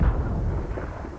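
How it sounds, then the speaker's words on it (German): A heavy gunshot fired in a tactical shooter video game played in immersive mode with no HUD, a single booming report with a low rumbling tail that fades over about a second, close and loud with no talking. "Jemand hat den Schuss von Fixit gehört"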